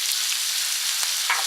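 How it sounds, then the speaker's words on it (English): Meat frying in hot oil in a pan gives a steady, loud, close sizzle that fills the whole stretch with a few brighter pops and spits, and no voices over it. "Oh yeah, listen to that sizzle."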